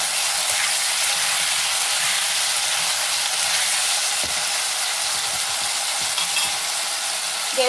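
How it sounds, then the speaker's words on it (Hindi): Potatoes frying in a pan over a low gas flame, a loud, continuous close sizzle and hiss lasting throughout with faint stirring ticks, no voices. "जब तक हमारे आलू फ्राई होते हैं"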